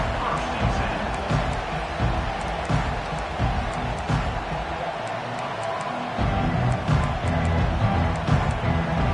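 Huge stadium crowd roaring at a college football game, FSU at Oklahoma, a dense continuous wall of cheering and noise with scattered claps, loud and sustained throughout.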